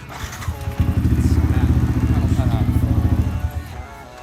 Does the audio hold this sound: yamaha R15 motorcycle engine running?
yes